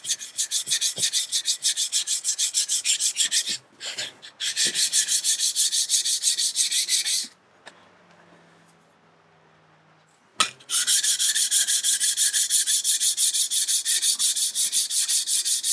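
A steel plane iron from a Luban low angle jack plane is rubbed back and forth on a sharpening stone, a steady broadband scraping that continues with two short breaks and a quieter pause mid-way.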